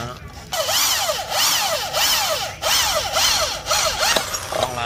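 Close and loud, a Dekton DK-710B power drill drives into wood in a series of repeated bursts, its motor pitch dipping and recovering with each push of the bit.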